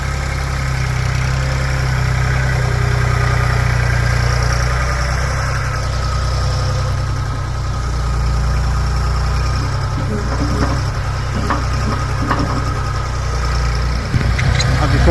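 Siromer 304 tractor engine idling at low revs while pushing a muck heap, a steady close diesel drone throughout with some faint rattles and knocks later on.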